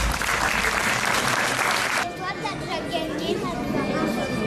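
An audience at a Breton singing competition in Quimper applauds sculptor Jean-Claude Talec with a short burst of steady clapping that cuts off after about two seconds, followed by a voice speaking over continuing room noise.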